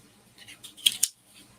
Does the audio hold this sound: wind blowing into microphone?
no